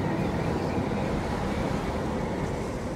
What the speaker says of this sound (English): That's very windy.